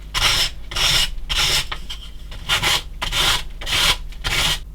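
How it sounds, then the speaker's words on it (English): A sanding block with medium sandpaper smoothing the cut edge of a PCB by hand: about eight rhythmic, close-up rasping strokes with brief pauses between them. "just use a sanding block. This is a medium sandpaper, and just work your way around it,"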